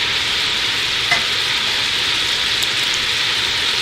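Homemade Alfredo sauce being stirred in a pan, heard as a loud, steady hiss of simmering with barely any distinct strokes, continuous and close with nobody speaking.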